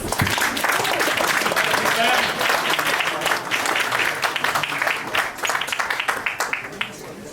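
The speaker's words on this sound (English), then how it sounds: "Let's give them another round of applause." An audience applauds at a bookshop event, with dense, sustained clapping that thins out toward the end, and voices are heard under it.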